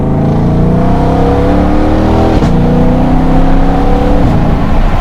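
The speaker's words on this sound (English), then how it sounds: "It's just loud and silly and all things good about a proper American muscle car." A deep, loud V8 engine of an American muscle car revs and roars steadily, pitch rising and dipping with throttle blips, close and continuous with no talking.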